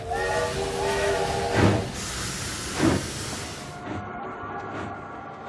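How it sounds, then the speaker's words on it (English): A steam train of two locomotives and three boxcars hisses while climbing a mountain pass near Mount Stephen, with a steady loud rush of steam, two stronger chuffing bursts and fainter ones as the hiss cuts out. "A train consisting of 2 engines and 3 boxcars slowly makes its way to the top of the pass"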